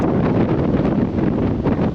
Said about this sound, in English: Sorry about the wind, folks. It's probably pretty tough in the camera, but it is windy out here today.